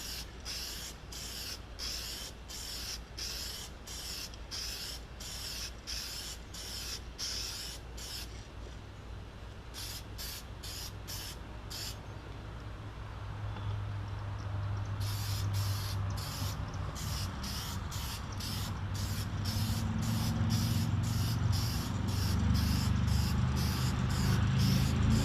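Repeated short bursts of aerosol spray lacquer hiss from a held-back spray can, coating a Zenith 5-S-29 radio cabinet with toner lacquer, separated by brief pauses, with a low rumble of room noise growing louder toward the end.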